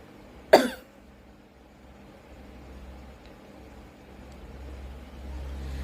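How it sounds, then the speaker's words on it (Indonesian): One sharp, forceful cough from a patient clearing sputum near the start, then a low steady rumble of background noise. "anjurkan pasien untuk batuk dengan kuat dan keluarkan dahak"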